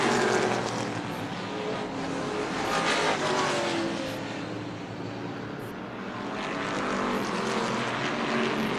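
Race cars roar past side by side as they battle for second place, a loud sustained engine drone that swells and fades with the passing cars, no talk.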